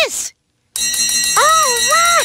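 A metal bell with a metal clapper swings side to side and rings steadily with bright, sustained, overlapping tones and repeated strikes, close and loud, while a high childlike voice talks over it.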